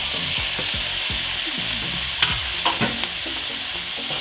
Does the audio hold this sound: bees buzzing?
no